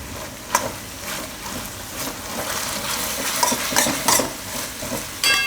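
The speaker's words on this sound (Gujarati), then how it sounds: "મિક્સ કરી લેવું." Paapdi muthiya curry is stirred and mixed in a pan, with a steady sizzle of frying under it and the scrape of a spoon against the metal pan. It is close and continuous, with sharper knocks now and then.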